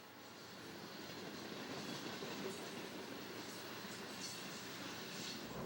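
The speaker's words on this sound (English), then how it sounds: "this westbound UP train headed through Victorville to do battle with Cajon Pass" A westbound Union Pacific diesel freight train rolls past near Victorville toward Cajon Pass, with a steady, heavy rumble and faint clicking of wheels on rails, the noise building gradually and holding.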